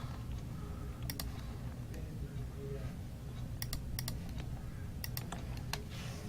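Typing on a computer keyboard during an accounting lecture, a steady run of light key clicks with small clustered bursts, close and moderately loud over a constant background hum.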